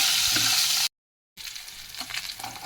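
Garlic, small shallots and green and red chillies sizzle and crackle in hot oil for a hotel-style chutney, a dense steady fry broken by a brief silent gap before resuming slightly quieter.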